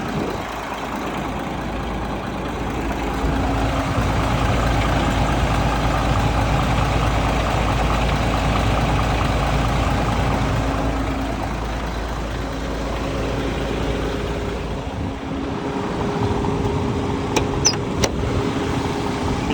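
A DAF CF460 tractor truck's engine idling steadily, a loud, close, low diesel rumble holding even throughout, with a couple of faint clicks near the end.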